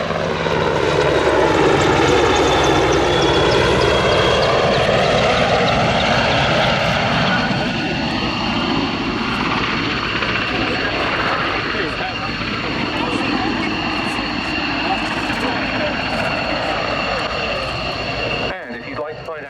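A Royal Navy Merlin Mark II helicopter of 824 Naval Air Squadron flying at the Yeovilton Air Day airshow, its loud rotor and turbine roar sweeping past with a Doppler shift, under an announcer's voice.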